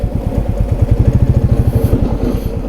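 A motorcycle being parked near a temple in Himachal idles close by, its engine thumping in a fast, steady rhythm of low pulses that ease slightly near the end.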